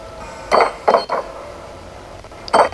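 Creaking door in the video game Little Nightmares swinging open after an item is pushed into it: a few short, fairly loud creaks in quick succession, then a pause and one more creak, with no talking.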